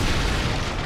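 A bomb blast in the video game Dark Souls 3: a loud, dense, low booming rumble that fills the whole moment, with no talking.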